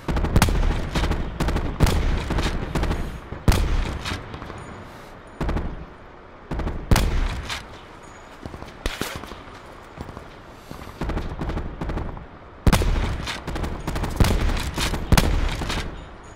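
Video game gunfire rings out in repeated sharp bursts and single shots, some loud and close, others quieter, separated by brief lulls across the whole stretch.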